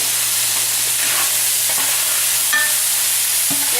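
Meat seasoned with cumin sizzles steadily in a pan while being stirred, a continuous close frying hiss with faint scrapes and clicks of the utensil.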